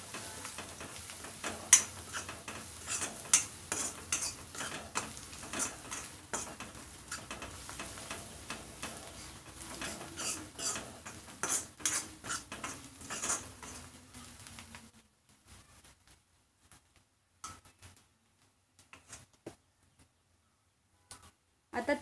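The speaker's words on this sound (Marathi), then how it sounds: "तर हे मसाले आपले मिक्स करून घेऊया।" Spices are stirred and scraped in a hot cooking pan with a soft sizzle, a busy run of light scrapes that stops abruptly, leaving near silence with a few faint clicks.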